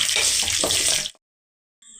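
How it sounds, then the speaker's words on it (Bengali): Urad dal and curry leaves fry in a hot pan, giving a loud, dense sizzle for about a second before it cuts off abruptly, followed by near silence and a faint return. "এবার এগুলোকে একটু 1 মিনিটের মতো ভেজে নিতে হবে।"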